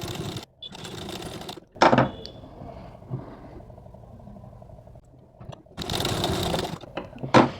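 A sewing machine stitching tucks on a blouse, running in close bursts with a steady whirring hum and short pauses where the motor slows and stops.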